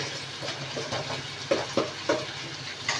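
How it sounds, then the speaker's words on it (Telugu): Garam masala being stirred into simmering fish curry, with soft repeated scraping strokes over a low sizzle and a few sharper clinks toward the middle. "గరం మసాలా వేసి కలుపుకోవాలి"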